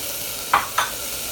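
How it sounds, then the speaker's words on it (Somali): Freshly cut potatoes and carrots drop into a frying pot of cooking food, making two quick plops half a second apart over a steady background sizzle. "haddaa qudaarta ku daraa"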